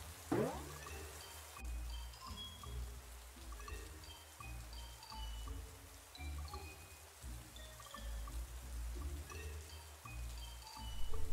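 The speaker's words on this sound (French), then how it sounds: "Il commence à pleuvoir. Entrez, entrez. Il semble que ce sera une grosse averse." Rain beginning as a heavy shower, a steady dense patter and wash of drops on surfaces with low rumbling underneath, continuous and fairly even, no one talking.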